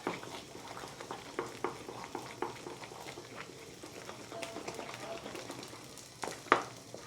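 Kashmiri halwa made with dal, mint and roasting cashews is stirred in a pan, giving a steady soft scraping and bubbling sizzle with irregular spoon knocks and a sharper clack near the end.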